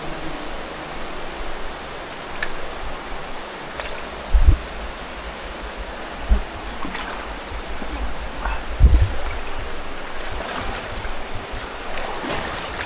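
Water sloshes and splashes as someone wades through a shallow stream inside Lumiang Cave, with a steady rushing wash broken by a few heavier splashes and thuds from footsteps.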